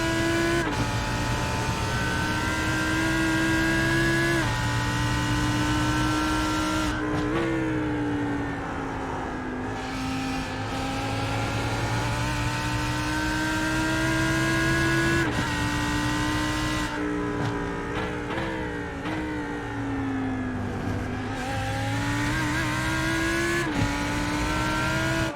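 GT3 race car engine on an onboard lap of Oulton Park in the iRacing simulator: a loud, continuous engine note climbing and dropping through gear changes and braking zones, with brief lifts, alone without talk.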